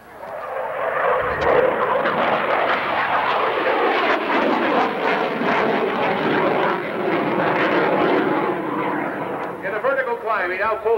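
A single airplane roars through aerobatic maneuvers at a 1989 air show in London, Ontario, its engine note loud and sustained, rising and falling, while a commentator talks over it.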